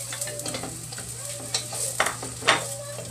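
Garlic and onion fry in a pan with a constant close sizzle, broken by a few louder stirring scrapes and pops over a low kitchen hum.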